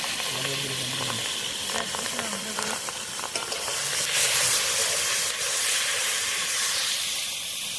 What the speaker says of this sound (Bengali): তেল গরম হয়ে গেছে বন্ধুরা এখন দিয়ে দেবো পটল পটল দেশি পটল